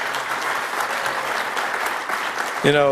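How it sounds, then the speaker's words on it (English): Audience applause for a band at a fusion energy lecture event, a steady wash of clapping from a crowd, fairly close and continuous, with a brief musical or voice tone entering at the end. "I think they deserve a round of applause."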